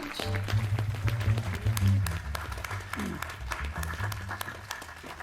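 A conference audience applauds steadily to welcome a speaker onto the stage at an aviation talk, a continuous wash of many hands clapping at moderate volume that carries on throughout.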